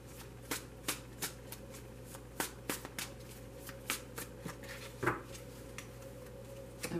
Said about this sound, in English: I'm only going to shuffle them for a moment before I lay out the cards